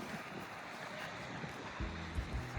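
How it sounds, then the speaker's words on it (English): Steady outdoor wind rushing across the microphone as a continuous broad hiss, with low buffeting gusts and a brief low hum near the end. "It's already like the wind is already taking it."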